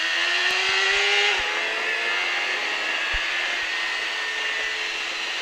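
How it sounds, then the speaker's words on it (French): A motorcycle accelerates on a race track at a riding school in Pau, its engine a steady sustained drone whose pitch rises then holds, heard up close and alone without talk. "On redresse la moto et on accélère."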